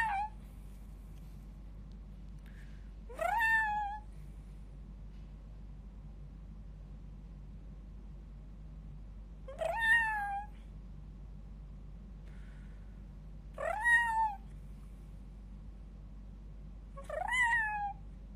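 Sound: cat meowing inside a church

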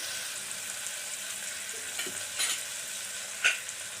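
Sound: sautéing tomatoes in a pan

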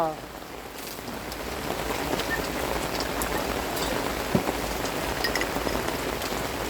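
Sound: rain

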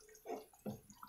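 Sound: water being poured into mung dal and meat curry

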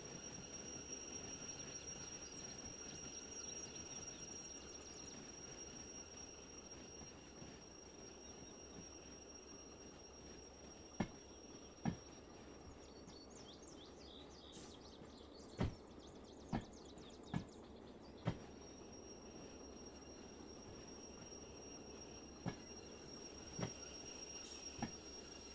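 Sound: train wheels in Derail Valley train simulator video game

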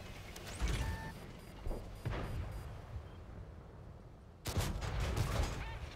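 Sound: tank cannon firing a shell in a tank video game

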